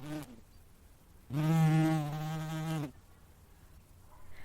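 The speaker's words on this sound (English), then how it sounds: "a wasp flew into the room" A loud, close insect buzz of about a second and a half, with a brief shorter buzz just before it, otherwise quiet.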